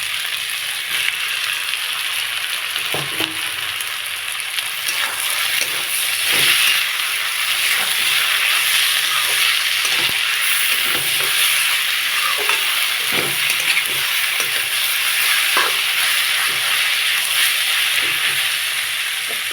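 Grated papaya frying with spices in a pan for chicken curry gives a steady, loud sizzle and hiss for the whole stretch. Occasional soft scrapes of stirring cut through, and no one speaks.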